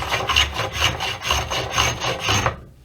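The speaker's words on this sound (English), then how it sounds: "I'm gonna go back to what I did before, which is planing with this right here." A hand plane shaves a wooden guitar neck in about six rhythmic, scraping strokes, loud and close, before the last stroke trails off into quiet.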